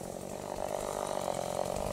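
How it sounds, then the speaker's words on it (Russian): A chainsaw cuts a tree low at the root beside a road at a blind bend, its engine a steady, buzzing drone that holds at constant strength throughout. "Пилит под корень."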